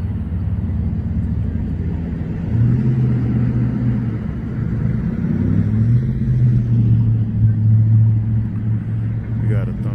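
A car passing by on a street in West Valley City, heard as a steady low engine rumble that swells slightly in the middle and holds fairly close, with no sharp peaks.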